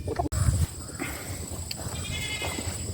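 Goats on a homestead bleat at feeding time, the cries rising briefly among a loud low rumble of handling noise early on, then quieter calls over a steady farmyard background.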